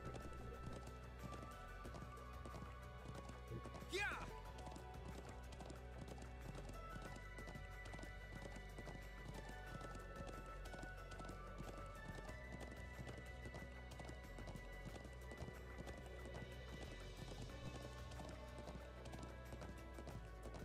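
Game audio from Trails of Cold Steel 2 carries steady horse hooves clip-clopping, with a brief rising whinny early on, all set against continuous background music at moderate level.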